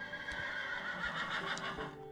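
Horse neighing in the video game Minecraft, a drawn-out whinny over soft hoof clip-clops, fairly close and clear with no talking.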